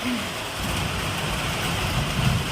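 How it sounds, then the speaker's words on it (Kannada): Heavy rain pours down in a dense, continuous hiss and patter, close and steady, with no voices over it. "ಈಗ ಮಳೆ ಬರ್ತಾ ಇದೆ ಫುಲ್ ಈಗ ಬಂತು"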